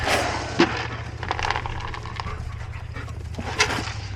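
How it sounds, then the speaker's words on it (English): Dogs pant in quick, rhythmic breaths close by, with a couple of short whimpers or yelps breaking through. "Get out of here, dogs."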